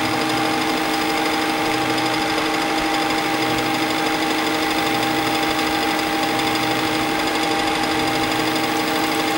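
A lathe makes a deep taper boring cut, producing a steady, loud mechanical whir with a constant high whine and faint rhythmic pulsing underneath, unbroken throughout.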